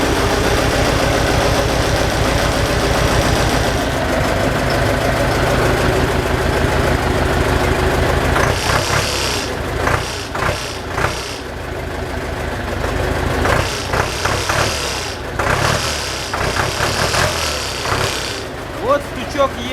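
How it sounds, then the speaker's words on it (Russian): An LTZ farm tractor's diesel engine idles steadily and loudly up close, a continuous low rumble with clattering knocks and bumps toward the end, while someone talks over it. "трактор работает ровно"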